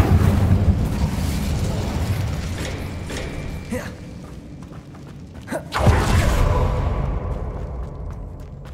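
An Incendio fire spell cast in Hogwarts Legacy, a loud whooshing burst with crackling rumble over a busy mechanical background, with a second sharp burst swelling near the middle.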